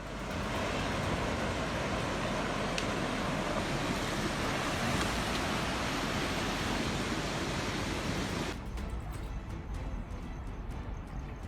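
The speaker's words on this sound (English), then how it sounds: "After heavy rain, a riverbed that was once cracked and dry suddenly rushes with fast-flowing water." Floodwater surges fast down a formerly cracked, dry riverbed after heavy rain, a loud, steady broadband roar of rushing water that holds constant, with the high hiss dropping away near the end.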